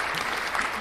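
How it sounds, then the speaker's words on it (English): An audience bursts into brief, dense applause for GR on a live talk show, a short close wash of clapping hands. "Round of applause for GR."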